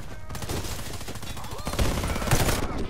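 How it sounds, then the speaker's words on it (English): Dense assault rifle fire from the video game Warface, a continuous loud barrage of rapid shots with a few heavier bursts, with no talk over it. "It's not a strong gun from range. It's basically like a machine gun."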